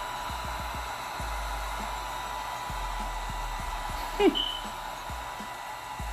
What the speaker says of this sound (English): Heat up these alcohol inks